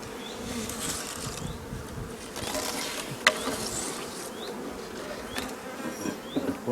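Dense, steady buzzing of many honeybees at a hive close by, a continuous droning hum with occasional individual insects passing.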